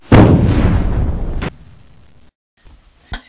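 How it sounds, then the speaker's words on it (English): A volcano erupts in Minecraft with a loud, booming explosion that rumbles for over a second, then fades to a low roar, followed by a brief pause and a sharper second blast. "the volcano's erupting!"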